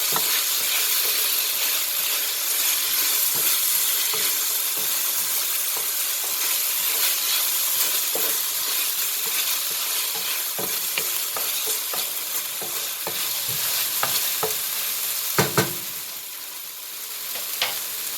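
Mongolian pork sizzles loudly in a pan as a big spoon stirs it, with steady frying hiss and scattered scraping clicks of the spoon against the pan and no speech.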